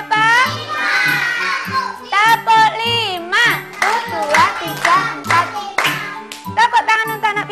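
Young children at a Quran-school class clap along in a counting clap game, a few sharp hand claps mixed into lively chanting and talking voices from the kids and teacher.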